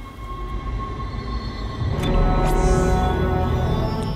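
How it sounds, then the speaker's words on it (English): A tram pulls in within the sci-fi horror game Dead Space, a rumbling mechanical rush that grows louder midway with metallic whines and a high hiss, heavy low-end rolling throughout, with no voices. "There's our tram!"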